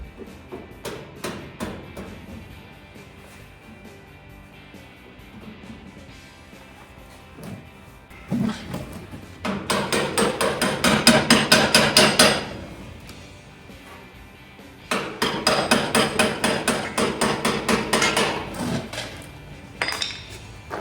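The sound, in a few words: hammer striking metal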